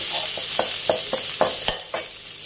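Red curry paste stir-fried over low heat in a pan for spicy catfish, with a constant soft sizzle and a series of about eight scraping stirs at a regular pace, close up and without any voices.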